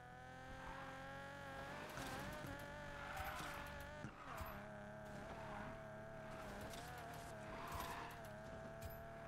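An engine revving hard with tires squealing as a car drifts off-road in Need for Speed Payback, a steady high-pitched motor whine with rising and falling pitch sweeps, loud and close.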